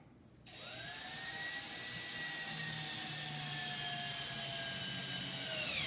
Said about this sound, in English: now we are simply going to put in the other screw through the other